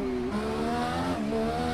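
An Indycar engine in Project CARS 2 at Long Beach drones steadily at high revs, its whine shifting pitch with gear changes and reverberating off nearby grandstands and tunnels.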